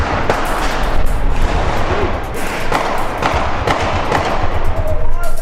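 Gunfire and small explosives crack and thump through a loud, chaotic street clash during a political protest in Bangkok, with repeated sharp bangs over constant crowd noise and shouting.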